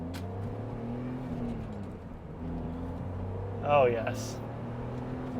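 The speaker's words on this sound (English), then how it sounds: "There's nothing like running through the gears on an old M-powered 6-cylinder BMW" A BMW Z3 M Roadster's M-powered six-cylinder engine drones steadily up close as it pulls through the gears, with a brief spoken exclamation partway through.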